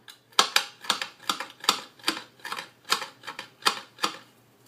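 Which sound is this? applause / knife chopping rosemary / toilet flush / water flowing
knife chopping rosemary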